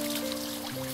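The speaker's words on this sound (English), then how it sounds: "Up to this pretty waterfall." Small waterfall trickling in a woodland creek, a steady close splashing wash of water; a few steady tonal hums run underneath.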